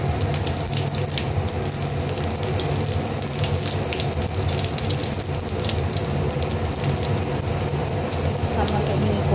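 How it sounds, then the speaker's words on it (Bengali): Cumin seeds and a bay leaf sizzle in hot oil for a dal, a dense steady crackling hiss that stays close and even throughout. "জিরে ফোড়ন দেব, একটা তেজপাতা ফোড়ন দেব"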